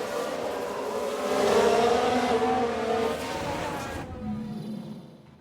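F1 car wheel lockup in the F1 Manager 22 video game during a 1991-season race, a loud engine roar with a brief tire squeal as the car brakes, fading quickly.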